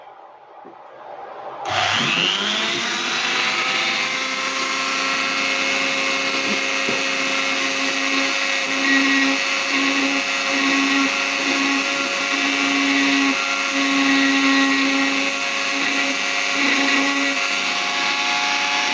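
Rotary tool with a burr carving around lettering in wood on its lowest speed setting, a close steady high whine starting abruptly after a short quiet lead-in, with faint grinding variations as the burr bites.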